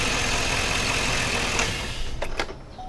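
A 2005 Avalanche truck engine idles with a steady low rumble that continues throughout, with a couple of brief clanks near the end.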